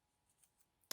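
Scissors snip paper for a collage, with a few faint cuts followed by one loud, sharp snip close by at the very end.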